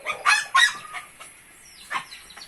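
A gamecock on a Filipino rooster farm gives a few sharp, loud crowing and clucking calls close by, then a softer call after a short pause.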